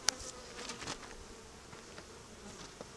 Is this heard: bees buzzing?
yes